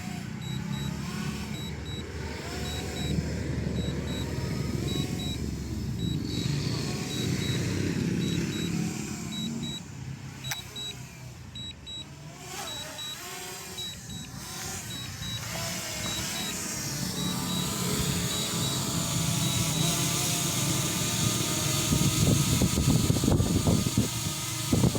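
Small drone flying back and coming in to land outdoors, a whining, buzzing motor drone that shifts in pitch and grows louder near the end among varied background noise.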